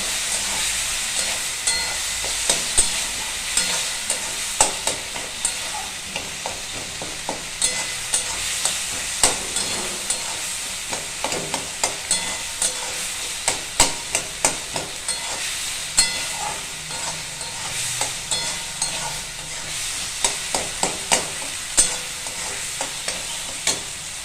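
Lentils and vegetables fried with figs in a pan, with steady sizzling and frequent sharp scrapes and clacks from stirring throughout, close and continuous with no voices.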